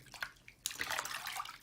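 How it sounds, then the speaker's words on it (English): Tap water pouring into a bathtub over a dissolving bath bomb, a few soft splashes and drips at first, then a sudden close, steady gush of running water. "This might actually bubble up more when I run more water into it."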